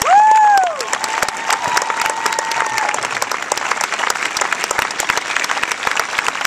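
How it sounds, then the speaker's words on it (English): A crowd at a little league baseball event applauds the coaches, a steady roll of many hands clapping with a brief whistle-like tone at the start, fairly near and continuous. "So how about a nice round of applause for the coaches?"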